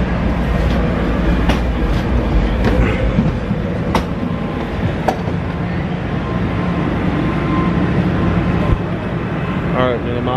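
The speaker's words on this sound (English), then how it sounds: "the train just stopped" Steady low rumble of a train car with occasional metallic clanks and squeals, muffled voices in the background.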